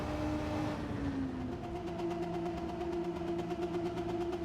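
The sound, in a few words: Renault RS01 mid-engine race car engine in Gran Turismo 7 video game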